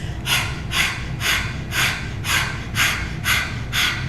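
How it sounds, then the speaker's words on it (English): Fast rhythmic panting breaths with the tongue out, like a dog, done as a yoga breathing exercise; eight sharp evenly spaced huffs about half a second apart, close and loud with no talking. "sticking our tongues out and panting like a dog"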